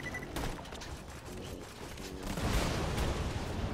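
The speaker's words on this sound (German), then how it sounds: "Achtung, Granate!" Gunfire and a grenade blast in the shooter game Borderlands 2 form a dense, continuous clatter of shots with a heavier burst swelling near the end.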